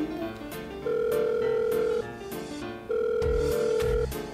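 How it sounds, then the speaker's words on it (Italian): A telephone rings on an outgoing call, with two long steady ringback tones separated by a pause. Clear and close, with some low background rumble and no one speaking. "Sta squillando."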